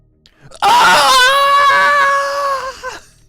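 A human voice imitates Cloud's anguished scream from a video game, one long loud wailing cry held for about two seconds before trailing off.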